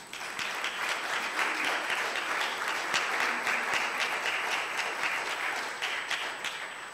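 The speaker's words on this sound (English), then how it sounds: "please give them a round of applause" A church congregation at a Wednesday evening service claps in a full, steady round of applause that stays even and strong for several seconds before easing slightly at the end.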